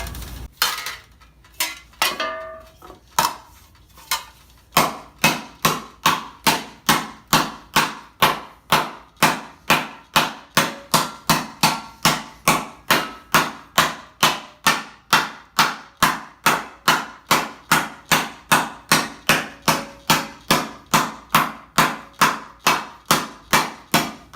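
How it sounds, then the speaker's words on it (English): Steel armor greave hammered on a planishing anvil to smooth out wrinkles: after a few irregular opening strikes, a long even run of sharp metallic blows at a quick steady rhythm, loud and close. "these wrinkles, will take those out on the planishing anvil"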